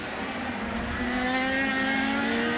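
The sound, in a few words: IndyCar race car at Motegi pulling off course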